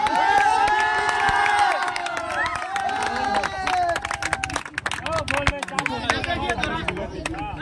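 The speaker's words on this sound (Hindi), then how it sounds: "एक बार जोरदार तालियां" A crowd at a cricket league final's prize presentation ceremony claps and cheers, with shouts and voices mixed in, the clapping growing sharper and more scattered toward the end.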